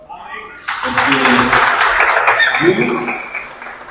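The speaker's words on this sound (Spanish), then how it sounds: "Tanto le damos un aplauso al Señor." A church congregation applauds during an evening service, a sustained wash of clapping that starts abruptly and carries on while a preacher keeps speaking over it.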